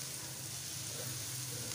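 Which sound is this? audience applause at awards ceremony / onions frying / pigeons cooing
onions frying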